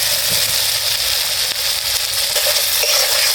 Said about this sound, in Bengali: ঢাকনা খুলে মশলাটাকে আবার কষিয়ে নেব